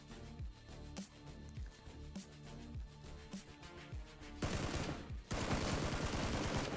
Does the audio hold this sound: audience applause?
no